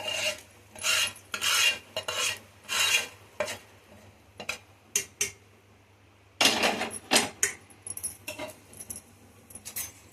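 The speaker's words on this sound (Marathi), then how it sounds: "हे व्यवस्थित फेटून घ्यायचं मिक्स करून घ्यायचं" Eggs being whisked with a roasted spice mixture in a bowl, a close, rapid rhythmic clatter of whisk against the bowl in bursts with short pauses.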